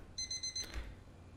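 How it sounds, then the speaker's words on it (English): Electronic alarm from the video game Entity Room, a brief sequence of four quick high-pitched beeps followed by a dull low thump, fairly faint and alone. "I think that's the good alarm."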